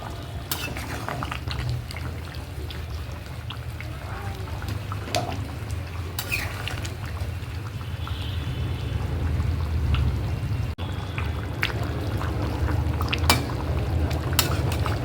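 Chicken curry simmers in a pot with garam masala, making a steady bubbling and boiling hiss throughout, with occasional light clinks of a utensil against the pot.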